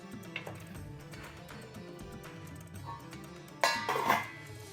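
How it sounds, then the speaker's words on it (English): A lid is set onto a pot of simmering green lentil dahl, giving a short, bright metallic clatter and clink near the end after a quiet stretch of kitchen background. "Then place on a lid and turn the heat to low"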